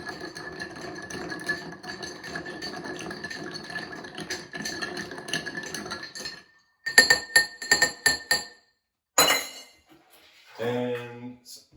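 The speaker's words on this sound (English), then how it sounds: "you want to give it a good stir for a while" A bar spoon stirs a Manhattan cocktail in a mixing glass, a steady close tinkling of ice against glass that breaks into a few distinct clinks and taps before going quiet.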